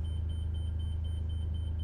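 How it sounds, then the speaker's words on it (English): Steady electronic beeps repeat in a regular pulse, about four per second, over a constant low engine rumble from a Tiffin Wayfarer motorhome idling at startup. "I'll just let her start up here and let all the beeps go away."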